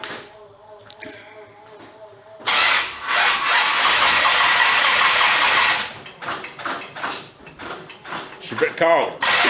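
A Chrysler 300C with a 5.7 Hemi V8 cranks and fires on a cold start, then settles into a loud, steady idle that gives way to uneven revving, with people talking over it near the start.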